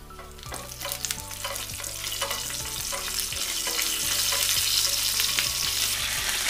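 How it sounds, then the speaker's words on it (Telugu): Crushed cumin, fennel and coriander seeds fry in hot oil in a pan for samosa filling, a steady crackling sizzle with stirring scrapes that grows a little louder over the few seconds. "ఇప్పుడు దీనిలో కొంచెం జీలకర్ర, కొంచెం సోంపు, కొంచెం ధనియాలు క్రష్ చేసి వేసుకోవాలి."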